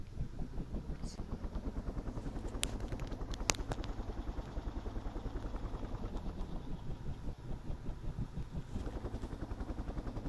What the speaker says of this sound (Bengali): এখন আমি একটি হেলিকপ্টার দেখলাম